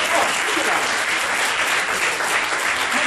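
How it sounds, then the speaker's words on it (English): Loud, dense audience applause for a boy at a live show, a short burst of close, steady clapping filling the room with no voices over it. "Let's give him a round of applause!"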